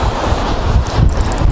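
Loud, blustery wind roars against the microphone in a continuous rush, with a faint surf-like wash underneath, on a beach at Katsiveli in winter.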